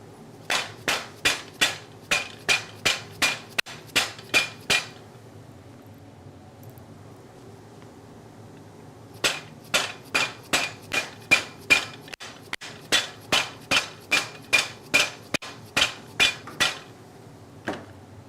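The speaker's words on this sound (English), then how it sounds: "I'm going to go pound it and then grind it." An orthotic shoe modification being pounded with a hammer in a cobbler's workshop: two runs of rapid, evenly spaced sharp blows, about a dozen each, separated by a few seconds of quiet.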